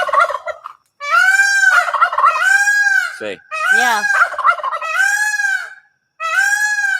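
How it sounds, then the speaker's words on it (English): Loud, close turkey-like gobbling calls in repeated harmonic bursts at night, with short quiet gaps between them and a person briefly talking underneath. "everybody loves the loud bird show at 9 o'clock at night"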